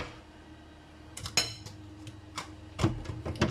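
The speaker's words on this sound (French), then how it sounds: "Et je le mélange au riz que je viens de cuire." Butter being stirred into freshly cooked rice in a home kitchen: a spoon scrapes and knocks against the pot in a few sparse, quiet clinks, with no talking.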